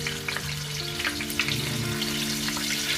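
Buchi fry in hot oil while being stirred, giving a dense, close sizzle with light spattering pops under a faint tonal background.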